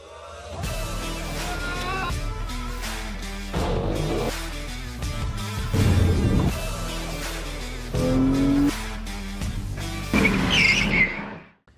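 A Lotus Exige S2 sports car drives hard, its engine revving up and down through gear changes with bursts of tire squeal, loud and close for several seconds before cutting off.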